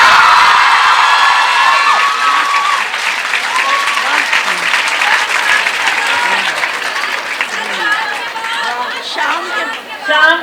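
Loud audience applause fills a girls' college hall at an Urdu poetry mushaira in Faisalabad, with steady clapping, crowd chatter and scattered cheers and whoops rising and falling throughout.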